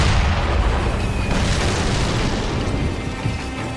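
A bomb blast in the video game Sekiro, a loud, close boom with a heavy rumbling tail that decays slowly over several seconds.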